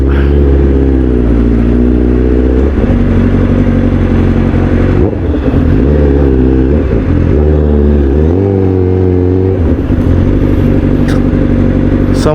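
A Honda Rusi motorcycle rides through road traffic in Manila. Its loud, continuous engine drone rises and falls in pitch as the rider revs and shifts, with no voices.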